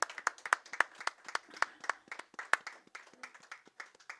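A small audience at a curling club challenge final claps in a sparse, uneven burst of distinct hand claps, fairly close, fading toward the end with no talk over it.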